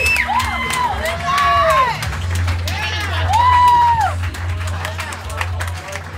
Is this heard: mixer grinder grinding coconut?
no